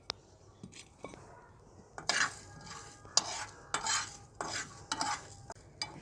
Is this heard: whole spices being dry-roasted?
yes